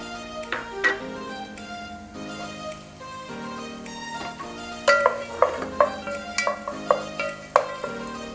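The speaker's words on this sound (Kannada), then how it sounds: "ಈರುಳ್ಳಿ ಫ್ರೈ ಆಗಲಿ." Onions fry in hot oil in a pan for chicken masala, a soft sizzle under a run of sharp scraping and tapping stirs that grow busier toward the end, with no speech.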